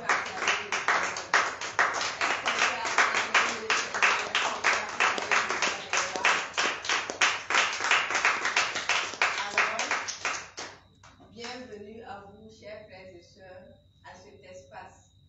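A church congregation claps in rapid, sustained unison for about ten seconds in praise of the Lord, then the applause fades into scattered claps under a speaking voice.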